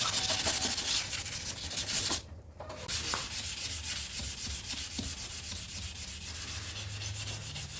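Wet sanding of epoxy filler on a dented Mitsubishi Xpander Cross bumper: a steady scrubbing rasp of abrasive paper with a brief pause partway, then continuous rubbing strokes at close range, no talking.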